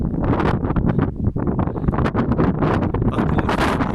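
Strong wind blows at a seaside cliff at Cap Saint-Vincent near Beliche beach, loud gusty roaring buffeting the microphone close up in surging waves with no pause.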